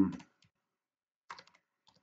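A computer keyboard is typed on in two short bursts of a few quick clicks each, close and fairly quiet, separated by about a second of silence.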